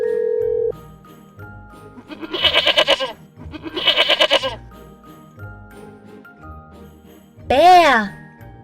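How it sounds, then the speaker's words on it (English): A goat bleating twice in long, wavering cries over a light background tune, with a tinkling chime sounding just after. "Goat."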